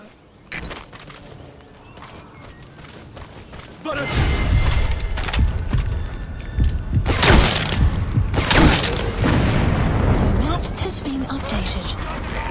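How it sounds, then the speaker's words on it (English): A deep, booming vehicle explosion in Metal Gear Solid V: The Phantom Pain erupts after a few seconds of clattering mechanical noise, followed by sustained roaring rumble and scattered thuds and crackles. "Boss, did you see that explosion?"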